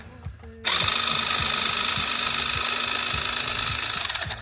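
A small electric screwdriver from a mystery tech lucky dip drives and undoes screws. After a short pause it starts a steady, close motor whir with a faint rhythmic pulse, running for about four seconds with no talking.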